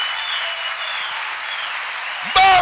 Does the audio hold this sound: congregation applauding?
yes